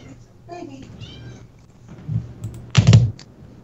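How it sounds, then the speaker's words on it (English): Small kittens meowing faintly in the background of a voice chat, with a few short high cries followed by a louder burst of mewing near the end. "Do I hear those kittens on your end, Kaze?"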